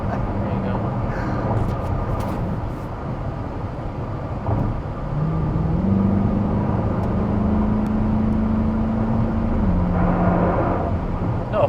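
Sports car, an Acura NSX or Corvette C8 E-Ray, heard from inside the cabin as its engine drones and then rises to a steady higher pitch under acceleration, with people talking over it.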